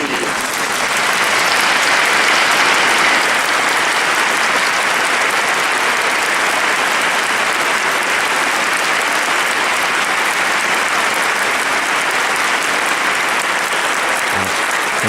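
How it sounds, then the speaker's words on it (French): A congregation of about 1500 people applauding in a basilica during a pilgrimage Mass, a long, thunderous, reverberant wall of clapping holding steady for fifteen seconds. "Vous avez toute une basilique, 1500 personnes qui applaudissent à tout rompre"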